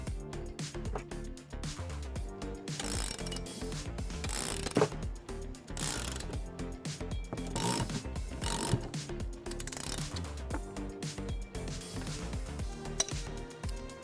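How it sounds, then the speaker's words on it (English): Bolts are tightened with a 19mm socket wrench while assembling a Swagman Trailhead 3 bike rack, quiet rapid ratchet clicks in repeated bursts with occasional metallic clinks, close by. "Now we need to tighten down our bolts using 19mm sockets or wrenches."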